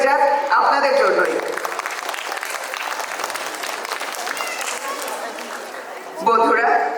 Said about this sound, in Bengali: আপনাদের এই সমর্থনের জন্য একটি জোরে হাততালি হয়ে যাক আপনাদের জন্যই